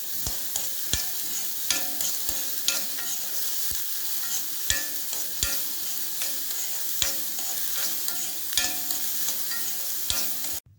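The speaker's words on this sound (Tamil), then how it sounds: "பச்சை ஸ்மெல் வருன்றதை நம்ம எண்ணெயில் வதக்கிறோம்." Beetroot sautés in oil in a pan, giving a steady close sizzle broken by sharp scraping knocks of a spoon stirring at an uneven rhythm, with no talking.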